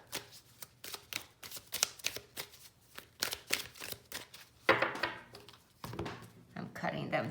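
Tarot cards are shuffled and cut in a rapid series of crisp riffling flicks and slaps, close and fairly loud, with a person talking between the bursts.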